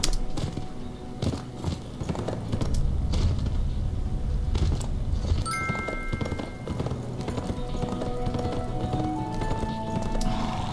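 Horse hooves in a horse-riding video game clop in steady rhythm with scattered thumps, and a whinny rings out midway, over faint background game sounds.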